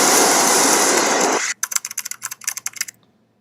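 A broad, loud hiss is cut off abruptly and followed by about a second and a half of quick, crisp computer keyboard keystrokes in an irregular rhythm, close up, ending in quiet.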